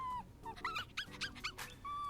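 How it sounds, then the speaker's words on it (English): Dogs in an anime episode whimper and yip in a short, high-pitched, nasal run of whines and yelps, close and clear with no talk over them. "Damn, Hikigaya's family's got a lot of pets. They got a cat and 2 dogs."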